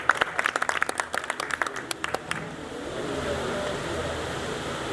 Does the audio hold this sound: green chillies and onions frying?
no